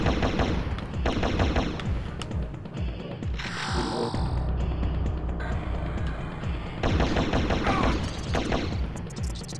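Enemy gunfire in Turok: Dinosaur Hunter on Xbox One X, loud bursts of rapid machine-gun fire with a few pauses, interrupted by other game effects in between.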